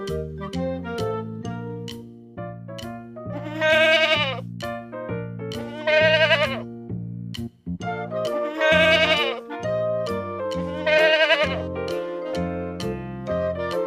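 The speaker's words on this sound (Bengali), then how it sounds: "ছয়ে ছাগল ছানা লাফিয়ে চলে" A goat kid gives several clear, wavering bleats, a few seconds apart and fairly near, over a gentle tonal musical backing.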